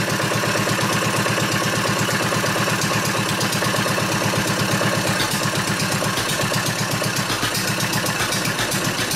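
An old stationary engine with a water hopper on top runs close by, its rapid, even firing beats thumping loud and continuous throughout.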